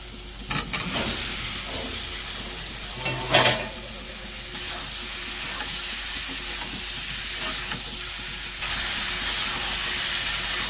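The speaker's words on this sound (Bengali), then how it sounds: "কচু আলু আমার খুব ভালো করে কষানো হয়ে গেছে" Taro and potatoes fry in an oily spiced masala, a steady close sizzle with a few sharp scrapes of stirring near the start and middle, no talking.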